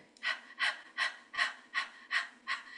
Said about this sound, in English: it's where you do sharp inhalations